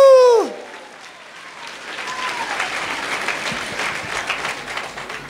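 A church congregation breaks into applause after a sharp tonal sound, the clapping building into a steady, lively crowd roar.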